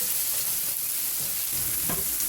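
Tomatoes drop into half-cooked onions in a pan for achari paneer, setting off a loud, steady sizzle with a few brief stirring scrapes near the end.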